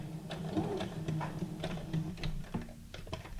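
A sewing machine runs a straight stitch, attaching sewn words to junk journal ephemera, with a steady mechanical whir and rapid ticking needle strokes, fairly close and continuous with no talking.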